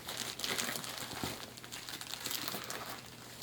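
A thick plastic-backed diaper is handled up close, giving off loud, continuous crinkling and rustling with sharp crackles throughout, with no one speaking.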